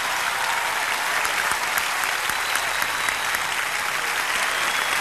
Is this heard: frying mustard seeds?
no